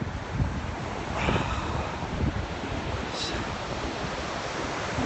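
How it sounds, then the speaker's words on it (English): Ocean waves at Malibu Beach, California wash in a continuous broadband roar with gentle surges and some wind noise, steady and fairly close, with no talking. "welcome to Malibu Beach. And beautiful California."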